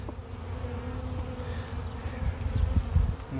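A honey bee swarm buzzes dense and continuous at close range while frames are placed into a hive during swarm catching, with the drone thickening and growing louder toward the end. No one speaks.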